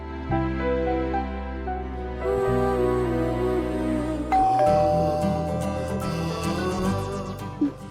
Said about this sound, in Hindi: घंटी बज रही है मिस्टर खान।